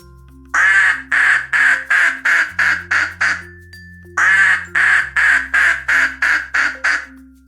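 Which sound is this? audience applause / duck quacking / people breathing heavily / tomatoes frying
duck quacking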